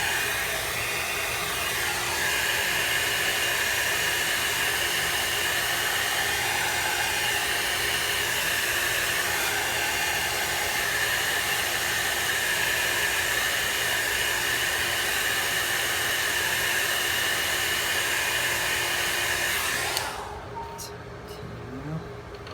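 Continuous loud roar of a hair dryer blowing up close, steady throughout, then cutting off near the end, leaving quieter background.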